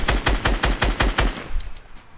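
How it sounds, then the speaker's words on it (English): A rapid string of about seven loud, close gunshots from Fortnite Battle Royale fires at a steady rhythm, then stops and leaves a fading tail. "He shoots at me, Alex."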